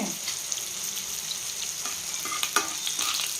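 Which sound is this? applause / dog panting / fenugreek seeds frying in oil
fenugreek seeds frying in oil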